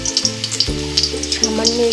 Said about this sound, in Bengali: প্রথমে আলুগুলো কেটে ভালো করে ভেজে নিতে হবে হালকা তেলের মধ্যে